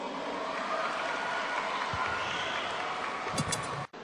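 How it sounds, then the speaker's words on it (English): An indoor audience applauds Muslim NGOs at a political speech event. The clapping is a dense, steady patter that sounds somewhat distant and fairly faint, then cuts off abruptly near the end. "Come on, a round of applause for the Muslim NGOs."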